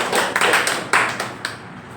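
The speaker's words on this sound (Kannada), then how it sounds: "ನಿಮ್ಮೆಲ್ಲರ ಒಂದು ಜೋರಾದ ಚಪ್ಪಾಳೆ ಮುಖಾಂತರ" An audience at a Kunigal taluk public meeting on filling lakes claps for the taluk secretary, dense close applause that rolls on steadily and then thins toward the end.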